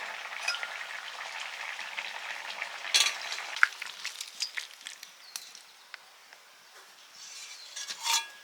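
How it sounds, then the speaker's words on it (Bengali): Fish roe frying in a pan, a soft continuous sizzle with scattered sharp crackles and pops, plus occasional clinks of a utensil stirring, fairly close and quiet with no talking. "মাছের ডিমগুলো ভেজে নিচ্ছি"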